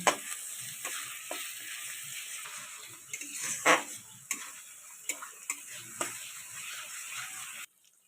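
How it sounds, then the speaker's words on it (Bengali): Onion and tomato paste stirred in hot oil for a Bengali doi katla fish curry, with a low sizzle and sharp spoon taps and scrapes against the pan at an irregular pace, ending abruptly. "পেস্টটা বানিয়েছিলাম সেটা দিয়ে দিলাম তেলের মধ্যে ভালো করে নেড়ে নেব"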